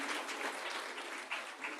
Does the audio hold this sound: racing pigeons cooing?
no